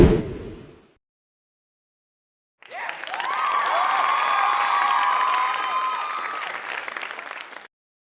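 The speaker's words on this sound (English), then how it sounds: "The baby likes to clap her hands." Many hands clap together in sustained applause for about five seconds, a dense even patter with a faint crowd murmur and no talking.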